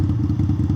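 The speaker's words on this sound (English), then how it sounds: "it does this exhaust fart noise between shifts" A 2021 Indian Scout motorcycle with a Hacker Mayhem exhaust pops and burbles between gear shifts, a rapid rhythmic string of loud, close, thudding farts over the engine rumble.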